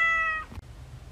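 A cat gives a single short, clear meow, close and tonal, followed by a quiet room.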